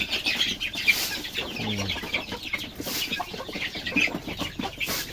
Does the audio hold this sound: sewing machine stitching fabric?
no